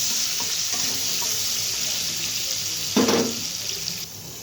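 Amra (hog plum) chutney is stirred and mixed in a pan over a loud, steady sizzle, with a brief louder scrape of the spoon partway through.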